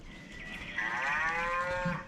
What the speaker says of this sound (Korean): 이거는 소가 우는 거야.